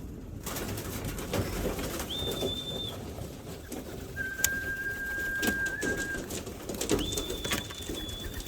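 Pigeons gathered in a pigeon trap while feeding, with a few thin whistled calls and soft shuffling over a busy outdoor background, fairly faint.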